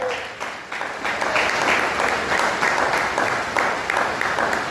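A church congregation applauds during a worship service, a loud, sustained roar of many hands clapping together in a reverberant hall, holding steady throughout.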